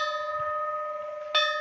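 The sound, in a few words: temple bell ringing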